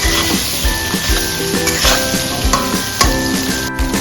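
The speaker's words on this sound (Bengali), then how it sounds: "সামান্য লবণ দিয়ে ভালো করে নাড়াচাড়া করে দিন।" Bengali fish egg curry with a little salt fries in a pan while being stirred, a steady close sizzle broken by regular scraping and clinking strokes of the spoon.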